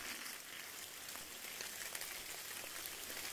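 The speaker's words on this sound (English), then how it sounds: "And it's raining." Rain falls on a campsite at the bottom of a gully, a faint, steady patter and hiss with no other sounds standing out.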